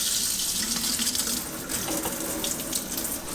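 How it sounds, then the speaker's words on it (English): Cool water from a kitchen faucet's shower-spray setting rinses aphids off pepper plant leaves, a steady close hiss of spray splashing into a sink with no break. "I like to use cool water and the spray function if you have the little shower setting on your kitchen nozzle"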